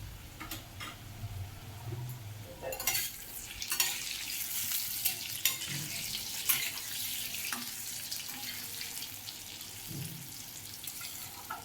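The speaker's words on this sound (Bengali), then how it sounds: "দেখুন বন্ধুরা আলুগুলো ভাজা হয়ে গেছে" Potatoes seasoned with a little salt and turmeric sizzle and crackle steadily in a pan, a close, continuous frying hiss with occasional sharper pops and faint clinks.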